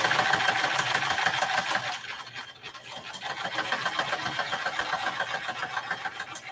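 Sewing machine stitching fabric strips a quarter inch from the edge of a quilted heart, a steady close motor whir that briefly eases off midway, then picks up again and runs to the end.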